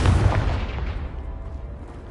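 A heavy magical blast bursts apart a piled barricade in Hogwarts Legacy, a single deep booming impact that rumbles and decays over two seconds.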